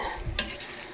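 Crushed chicharon stirred into a dish with a utensil, heard as a brief, faint scrape and clink with a light crackle and a soft sizzle underneath.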